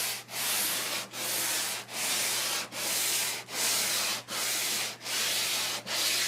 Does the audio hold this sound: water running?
no